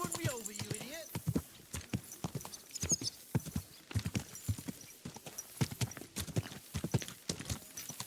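Steady clip-clop of horse hooves at a walking pace in Kingdom Come: Deliverance 2, close and rhythmic, with a horse's whinny at the start and someone talking over it.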